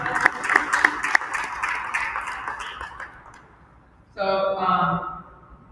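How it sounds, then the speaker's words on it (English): An audience at a ceremony claps for committee members, a dense round of applause that is loud at first and gradually fades out, followed by a voice speaking near the end. "So please give them a round of applause."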